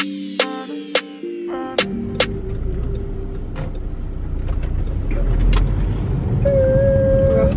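A car pulling away and driving back to a caravan site near Padstow, Cornwall, with a few sharp clicks and thumps at the start, then a steady low engine and road rumble that swells slightly, a faint tone near the end.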